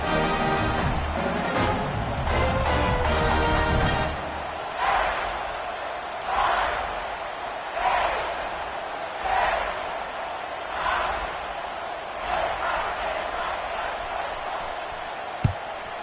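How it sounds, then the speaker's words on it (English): Football stadium crowd buzzing after a touchdown before a kickoff, a dense roar of cheering and chatter at first, then a steady crowd murmur swelling in periodic waves. "this crowd is buzzing after that last score"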